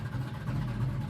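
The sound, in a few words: 1969 Chevelle exhaust rumble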